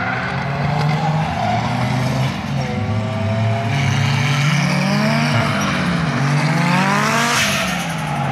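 A drift car at a 2016 tuning event in Braga revs loudly and continuously, its engine note rising and falling while tires squeal through slides, close and dominant throughout with no talk.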